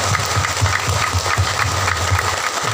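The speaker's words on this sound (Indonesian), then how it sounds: "mari kita tepuk tangan senyum ramah." Group applause at an Indonesian gathering with a teacher leading the room, steady hand claps for nearly three seconds under a faint low hum.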